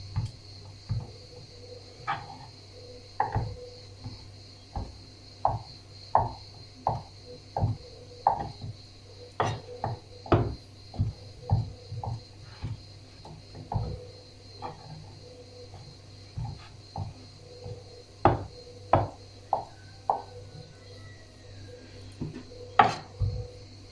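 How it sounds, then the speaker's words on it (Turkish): Repeated sharp knife taps on a wooden board as kashar cheese is chopped into small pieces, irregular rhythm, close and clear, no talking. "küçük küçük kaşar peynirlerimi doğrayacağım."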